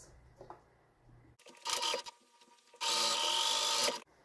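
A sewing machine stitching across fabric for a French seam runs in two bursts: a short run, a pause, then a longer, steady, close whirring stretch that stops abruptly. Quiet handling noises come before the first burst.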